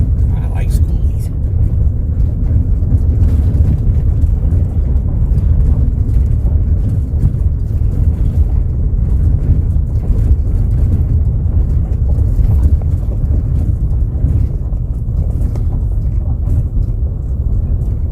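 Wind buffets the microphone while driving past La Posa LTVA South near Quartzsite, Arizona, a steady low roar blended with road and engine rumble that persists throughout, with people talking over it.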